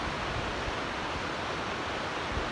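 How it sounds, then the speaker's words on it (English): Rushing river rapid on the Yellowstone River at Yankee Jim Canyon, a steady close broadband roar of churning water with no other sounds. "That is a cool rapid."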